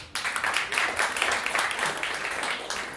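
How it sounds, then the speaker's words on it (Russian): An audience claps warmly after a jazz quartet's number at a concert, a steady dense applause sustained throughout and slowly tapering at the end. "Особенно спасибо за ваши теплые аплодисменты."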